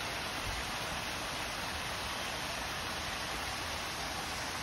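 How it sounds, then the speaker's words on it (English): Steady rushing water from a private backyard waterfall beside a patio in a gated mountain-view community, a continuous broadband roar heard up close with no talk. "looking at this beautiful waterfall"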